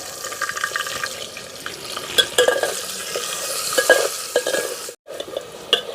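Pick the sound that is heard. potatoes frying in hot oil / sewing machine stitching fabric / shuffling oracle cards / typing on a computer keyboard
potatoes frying in hot oil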